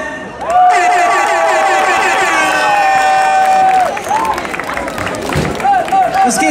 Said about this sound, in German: Einmal bitte Applaus für Noel